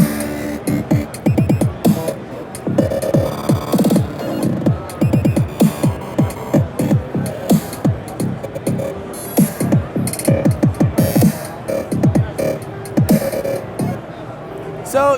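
An iZotope Break Tweaker drum machine plays glitchy EDM drum beat presets, loud stuttering rhythmic hits with pitched sweeps and chopped bursts repeating throughout, with crowd murmur faintly underneath.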